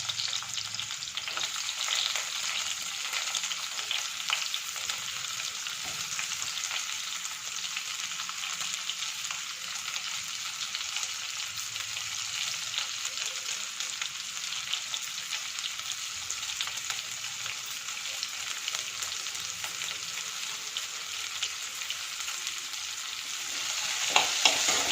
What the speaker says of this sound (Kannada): ಮತ್ತು ನೆಕ್ಸ್ಟು ಈರುಳ್ಳಿಯನ್ನು ಹಾಕ್ತಾಯಿದ್ದೀನಿ.